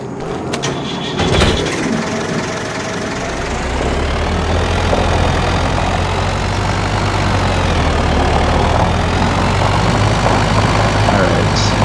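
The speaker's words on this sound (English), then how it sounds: "Let's go get in the tractor here." A Ford tractor engine cranks over amid a few clanks and catches, then settles into a loud, steady, low diesel rumble that runs close up and uninterrupted with no talking.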